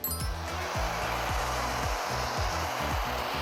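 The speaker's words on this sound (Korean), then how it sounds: "드라이기를 밑에서 위로, 앞에서 뒤로 대각선 형태로 바람을 쐬주면은" A hair dryer blows in a steady, loud whoosh, aimed diagonally upward and backward while styling a short drop-cut hairstyle. The tone wavers slightly as it moves around the head, and no voices are heard.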